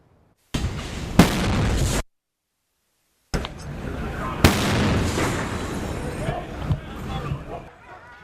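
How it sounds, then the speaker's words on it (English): Two loud, sharp blasts from explosions a man set off during a 14-hour police standoff at a Bakersfield home, the first short and the second followed by a long roaring rumble, with a pause of silence between them and a voice heard faintly. "a man allegedly set off 2 explosions during a 14-hour"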